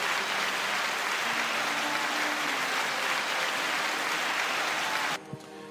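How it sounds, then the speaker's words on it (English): An audience breaks into sustained applause, a dense, even roar of clapping that runs for several seconds before cutting off abruptly near the end. "Come on, guys, round of applause."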